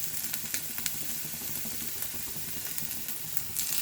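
Ginger and garlic frying in a pan for carrot manchurian, a dense continuous sizzle close by with occasional stirring clicks, no voices.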